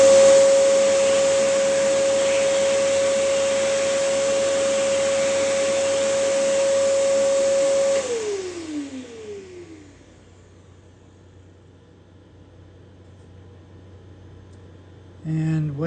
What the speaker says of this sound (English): A little bit of vacuum.